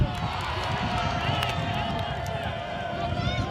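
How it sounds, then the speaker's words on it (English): Spectators at a Northwest Cup sports match cheer and roar in a steady, dense wash of crowd noise that runs throughout, with faint scattered claps and a commentator talking over it. "The crowd lets them hear it."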